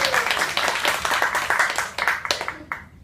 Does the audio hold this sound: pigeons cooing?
no